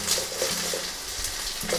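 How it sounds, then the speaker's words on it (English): Food sizzles and crackles in a hot wok while being stirred and mixed for a rice dish, a close, continuous frying hiss with short scraping stir sounds. "I know y'all hear it sizzling now."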